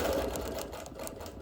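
A sewing machine quilts straight lines along a ruler through a quilt with a busy print, running as a steady, continuous stitching whir that stays moderately loud and even throughout.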